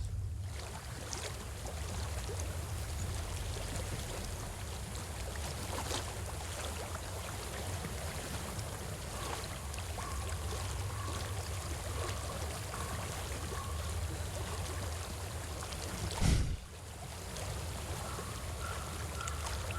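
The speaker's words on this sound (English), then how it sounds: "I hear water. Go to it." Flowing water in the fantasy game Hellblade: Senua's Sacrifice, a continuous rushing stream with a low rumbling bed, steady throughout, broken only by a brief dull thump near the end.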